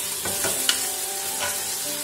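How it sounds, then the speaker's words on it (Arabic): Vegetables sauté in a pot as the base for a Moroccan lentil soup, giving a constant close sizzle broken by a few soft stirring scrapes and one sharp clink of a utensil. "وغادي نخلي الكل يتعرق مع بعض."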